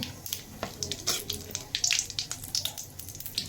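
Cumin seeds tempering in hot oil for a mixed fish curry with taro, giving a soft crackling sizzle with scattered small pops, fairly faint and steady.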